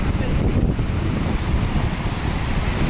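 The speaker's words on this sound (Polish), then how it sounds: "Wodospad taki lodem troszeczkę." A waterfall partly covered in ice, heard as a continuous dense rushing roar of falling water, steady and fairly close, with some wind noise on the microphone.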